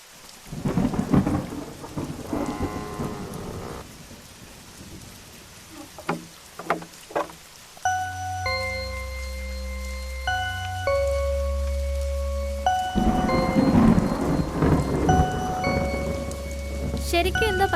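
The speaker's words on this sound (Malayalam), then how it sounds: "പുറത്ത് നല്ല മഴയല്ലേ" Heavy rain with rumbling thunder outside, a loud downpour and low thunder rolls that drop under a swell of tonal music partway through, with no talk.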